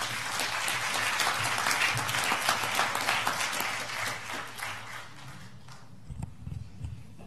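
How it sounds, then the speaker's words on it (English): Congregation at a Baptist Sunday worship service clapping in praise, a loud dense wave of applause that tapers off, leaving a few soft thumps and shuffling at the end. "Come on, give God a hand clap of praise."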